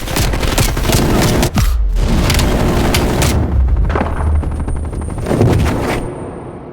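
Heavy machine gun fire rattles in rapid, loud bursts in Call of Duty Black Ops Cold War, mixed with deep booms and explosions, with short lulls between volleys.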